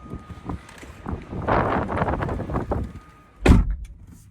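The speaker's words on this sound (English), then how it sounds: "It's time for a door quality check." A 2010 Porsche Panamera 4S door slams shut once, a sharp solid thud standing out over steady wind buffeting the microphone, with a moment of quiet afterward.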